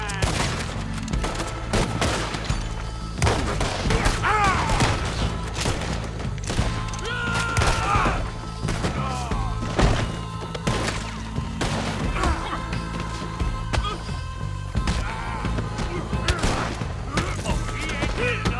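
Dense gunfire from Red Dead Redemption 2 rattles on almost without pause, loud volleys and single cracks layered over a steady game soundscape with occasional voices.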